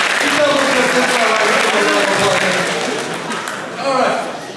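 High school audience breaking into applause and cheering, a dense steady wash of clapping across the room with some voices mixed in, swelling again near the end.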